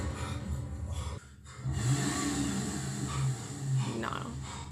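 A car engine revs in a TV episode, one roar cutting out briefly and then surging back in a sustained mid-pitched rev, with faint talk underneath.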